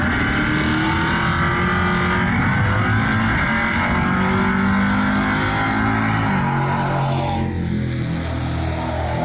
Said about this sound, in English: There's a Dodge looking for traction but not finding any.